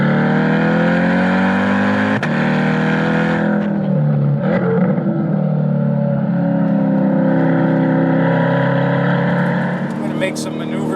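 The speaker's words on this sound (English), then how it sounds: "We'll downshift to third on this turn." Chevrolet C8 Corvette engine on a race track, a loud continuous engine drone whose pitch drops sharply with a downshift, then builds and shifts again through the run.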